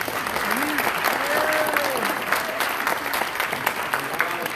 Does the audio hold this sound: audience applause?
yes